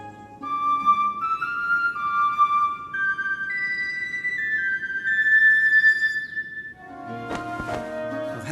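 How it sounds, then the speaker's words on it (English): A bone whistle played in the video game Masquerada: Songs and Shadows gives a clear melodic line of sustained, sliding tones over a low ambient bed, with a busier burst of sound near the end. "It's a bone whistle."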